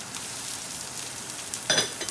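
Chopped onion and green onion hit a very hot pan with a steady, close hiss of frying, breaking into a brighter, louder sizzle surge near the end; no talk.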